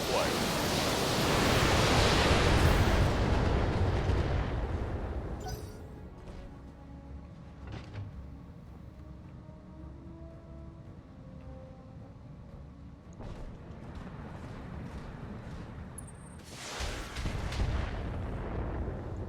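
An Artemis 4 missile launcher fires in a BattleTech tabletop-style session: a loud, roaring broadband blast fills the first few seconds, fades into a low rumble, then a second sharp burst erupts near the end.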